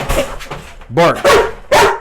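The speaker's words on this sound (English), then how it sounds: "hey Rocco, give me a bark" A Rottweiler barks on command, three loud, close, sharp barks spaced about half a second apart, with a man's short spoken prompts in between.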